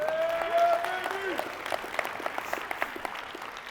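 A keynote audience breaks into brief, scattered applause that quickly fades into isolated claps, while a voice carries on over it.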